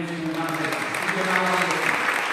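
A lecture audience gathered for a seminary president claps to welcome him, a dense, even burst of applause throughout.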